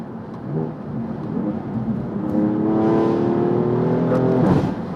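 A turbocharged BMW F80/F82 exhaust with Milltek equal-length system and Eventuri intake growls and swells louder as its exhaust valve opens, the deep engine note rising through a throaty rev, close by and with no talking.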